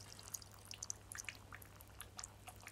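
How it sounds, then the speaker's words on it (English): Fuel drips and squirts from an overflowing carburetor on a Honda CX500 motorcycle, a scatter of faint, irregular wet ticks and splats over a low steady hum. "the other one's dripping as well, look at that. There's fuel everywhere"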